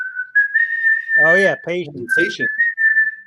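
Someone whistles a steady, sustained melody, loud and close, breaking off briefly while someone speaks, then resuming, as if whistling a tune.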